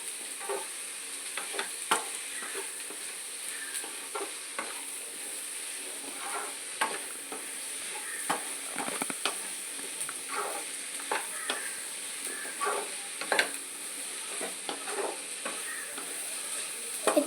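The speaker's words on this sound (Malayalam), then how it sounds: "ഇങ്ങനെ വഴറ്റിക്കൊണ്ടേ ഇരിക്കണം." Onions sauté in a pan for ulli theeyal under a soft, continuous sizzle, broken by frequent light taps and scrapes of a spoon stirring them.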